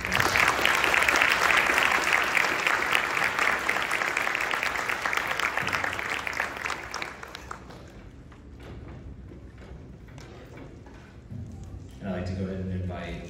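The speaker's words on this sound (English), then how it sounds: "Can we give them both a quick round of applause?" A crowd applauds at a student candidate Q&A event, loud, dense clapping that fades over several seconds into scattered claps and room noise, with a burst of noise returning at the end.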